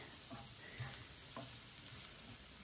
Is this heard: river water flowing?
no